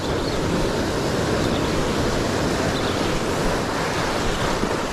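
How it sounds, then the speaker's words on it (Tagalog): Ocean surf breaking continuously along a shoreline during a fishing outing, a loud, steady wash of waves with wind rumbling over the microphone and no pauses throughout. "Yan ay alon."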